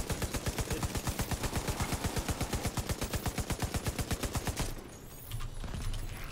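A deployed automatic turret in The Division 2 fires a long, rapid, evenly spaced burst of gunshots, loud and close, then stops abruptly and leaves quieter game ambience.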